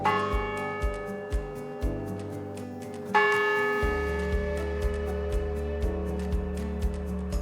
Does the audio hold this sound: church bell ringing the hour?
yes